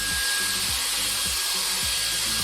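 An EliteAir multi style hair dryer blows on its cool setting, a loud, constant airy rush with a thin whine, with brief low rubbing thumps underneath and no voices.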